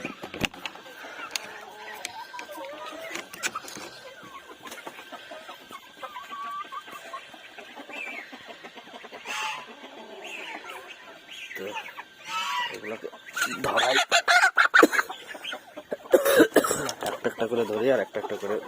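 Chickens clucking in a home pet enclosure shared with ducks and partridges, intermittent clucks and bird calls, some close, under a person talking and coughing.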